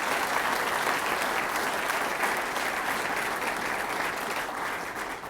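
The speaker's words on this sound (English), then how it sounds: "please just give them a round of applause for all the effort that they put forward" Dense, steady applause from a large audience at an all-hands company meeting, loud and continuous throughout, tapering slightly at the very end.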